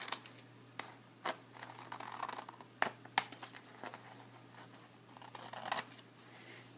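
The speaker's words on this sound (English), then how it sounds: "I can take my scissors and trim them off" Quiet, close snipping and rustling as scissors trim woven paper strips, a series of irregular sharp cuts scattered over a few seconds with no talking.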